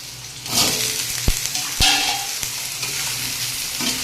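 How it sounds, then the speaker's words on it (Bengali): Radish and potato pieces fry in a pan, a steady sizzle with scraping and stirring strokes and a few sharp utensil knocks against the pan. "এবার এটাকে একটু ভেজে নেব"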